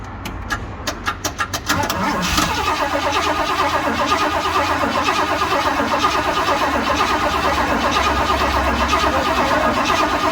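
A 1978 Ford F100 pickup with a Cleveland V8 cranks with several rapid starter bursts, then catches and settles into a loud, steady rumbling idle, close by with no talk.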